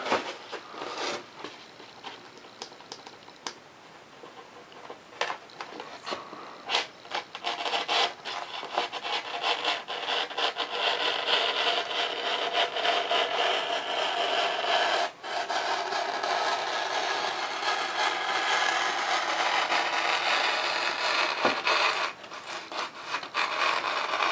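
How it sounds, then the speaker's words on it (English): A blade freehand-cutting a V-notch into foam for a model jet build, producing continuous close scratchy rasping strokes with quick irregular rhythm. "I'm going to go ahead and cut a V-notch from this side."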